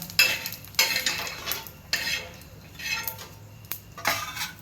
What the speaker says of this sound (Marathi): थोडे जिरं टाकू असं चांगलं भाजून घ्यायचं नाही का